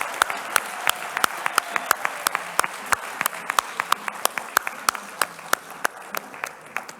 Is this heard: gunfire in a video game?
no